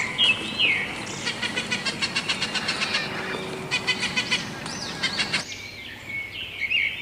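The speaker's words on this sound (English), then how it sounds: "P for parrot" A parrot calls in bright, squawking bursts, with a rapid run of chirps and screeches through the middle and a few more calls toward the end, fairly close over faint background noise.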